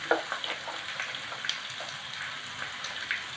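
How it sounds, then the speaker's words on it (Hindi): Diced capsicum and potato fry in a pan with a steady crackling sizzle and scattered sharp pops, moderately close and without any talking. "इसको हमने अच्छे से फ्राई करना।"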